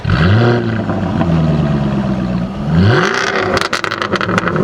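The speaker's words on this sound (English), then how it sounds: "Mark, can you start the F-Type?" Jaguar F-Type R sports car engine cranking to life, then revving hard with rising and falling pitch, loud and close, ending in a burst of sharp throttle blips.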